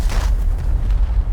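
Warship weapons in Space Engineers fire forward in a combat test of a decoy warship, giving a dense, continuous low rumble of booms and explosions with no clear gaps between blasts.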